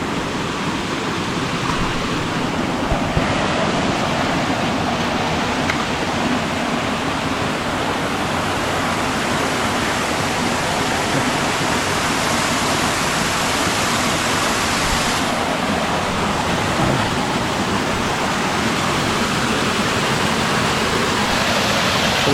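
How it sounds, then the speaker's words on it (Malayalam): A waterfall in Kerala roars from close range, a loud, continuous wash of falling water that holds steady throughout with no speech over it. "വെള്ളച്ചാട്ടത്തിൻ്റെ ഇത്രയും അടുത്തായി കേട്ടോ നമ്മൾ."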